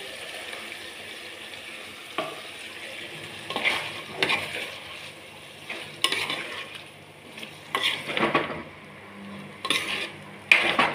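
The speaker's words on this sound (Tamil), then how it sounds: "இப்போ நம்ம அரைச்சி வச்ச தக்காளியை ஊற்றிப்போம்." Ground tomato pours into chicken gravy frying in a pan, with stirring and scraping against the pot. Close sizzling runs throughout, and brief clatters of a spoon on metal come at irregular intervals.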